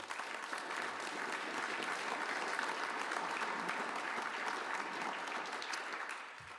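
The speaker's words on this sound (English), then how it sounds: "Want to give yourself a round of applause?" Audience applause fills a social services announcement event hosted by New York City Mayor Eric Adams, a dense, steady clapping that holds throughout and fades slightly at the end.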